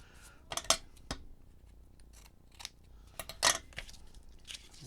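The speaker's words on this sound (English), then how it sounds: "I'm just going to snip along, hold it up, trim if I need to." Scissors snip away excess craft material in a few quick, quiet metallic cuts up close, in short clusters with gaps between them.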